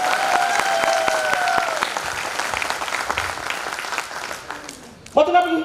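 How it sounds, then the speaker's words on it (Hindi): An audience at a speech event in Mandsaur breaks into loud, sustained clapping for several seconds that gradually thins out, with a voice over a microphone cutting in near the end. "अंतिम व्यक्ति हूं, अंतिम ताली बजा दो।"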